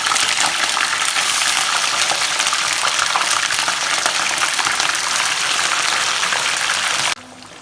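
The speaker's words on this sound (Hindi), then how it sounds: "ऑयल हो गया इस गरम और इसके अंदर ऐड करेंगे मछली को हमें फ्राई करना है।" Fish sizzles in hot oil in a pan, a loud dense crackling hiss that runs almost without a break before it drops off sharply near the end.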